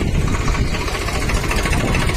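A steady, close tractor engine rumble runs unbroken throughout, deep and throbbing like a heavy tractor idling, with no voices.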